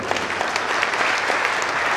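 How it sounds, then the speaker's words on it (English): Audience applause at an Obolo community convention, a dense, steady clatter of many hands filling the space without a break. "Somebody should clap there"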